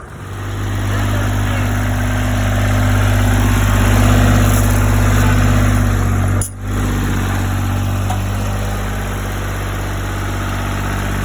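An old Chinese Power King PK 500 tractor engine idles loud and close, a steady low rumble with constant vibration that dips briefly for a moment partway through before carrying on evenly, no speech over it.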